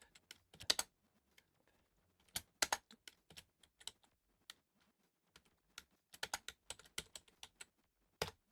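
Close-up typing on a computer keyboard while editing MIDI settings, a scattered series of crisp key clicks in short bursts with pauses between, clear and fairly quiet with no talk.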